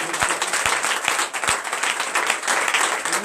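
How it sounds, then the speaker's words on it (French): Church congregation clapping and applauding at a night deliverance service, a busy continuous patter of many hands with a few sharper individual claps standing out. "Donnez encore l'acclamation."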